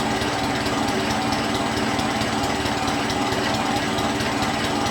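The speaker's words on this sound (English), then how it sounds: "now you can hear the change of the motor." Motor of a Graco E-10HP proportioner running steadily while its tanks are drained with PolyLube, a loud continuous mechanical drone with rapid pulsing and no talking.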